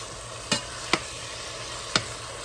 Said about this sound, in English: I like to let my meat get all the way let it browned up really good